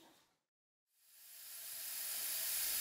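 A steam locomotive engine being readied from cold at the Wabash, Frisco and Pacific Railway in Wildwood, Missouri hisses steadily, a broad steam rush that swells louder after a brief silence and keeps building, close and without talk.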